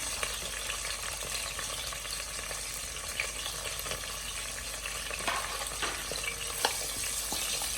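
Onions frying in oil for Ghanaian gari and beans street food, with a faint, steady sizzle and occasional stirring clicks, quiet and without talk.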